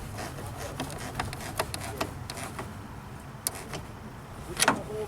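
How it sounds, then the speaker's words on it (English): A 10 mm wrench tightens the terminal nut on a car battery, a series of close, quick metallic clicks and ratcheting ticks, with a louder scrape near the end. "Now we tighten this side with 10 millimeter."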